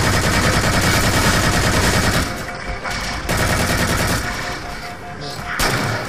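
Heavy automatic gunfire from a charged weapon in the video game Halo 4 roars loud and continuous, then breaks into shorter bursts with brief gaps.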